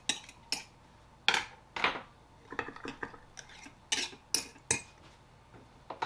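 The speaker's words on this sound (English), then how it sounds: "Give them one more quick stir here." A utensil stirring melted soft plastic in pots, clinking and scraping in about a dozen distinct short bursts, close and fairly loud with quiet gaps between.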